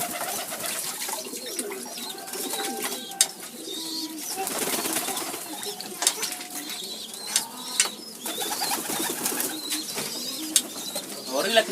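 Domestic pigeons cooing at close range in a loft, with repeated low throaty coos, some wing flapping, and a faint voice in the background.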